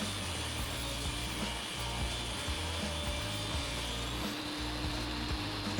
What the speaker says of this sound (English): we translate those measurements over to the table saw. First, I'll cut the width.